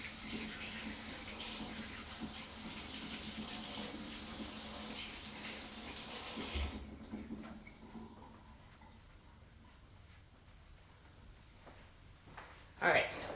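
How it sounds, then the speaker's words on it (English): Kitchen tap water runs full and rushing as chocolate-smeared hands are washed, then the flow turns softer and thinner, ending with a brief splash. "I'm going to quickly wash my hands."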